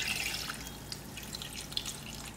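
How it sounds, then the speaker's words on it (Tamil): Coconut milk poured into a simmering country chicken semi-gravy, a brief liquid splashing and trickling with a few small drips, close and fairly quiet with no speech. "இந்த பாலையும் இதில் ஊற்றிடலாம்."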